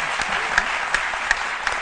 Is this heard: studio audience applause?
yes